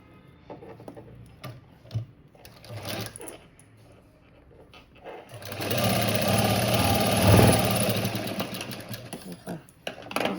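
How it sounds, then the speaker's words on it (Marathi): A sewing machine runs a short tacking stitch on a blouse cut from a saree border, with brief bursts early on and then a long, loud steady run near the middle, close to the mic. "एक टीप मारून घेते मी जेणेकरून धागे नको निघायला आपले"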